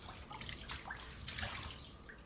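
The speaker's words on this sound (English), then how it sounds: "And then I'm just going to rinse everything off." Water splashes and trickles while a homemade exfoliating body scrub with flower petals is rinsed away, a soft, fairly close patter of running water lasting a couple of seconds.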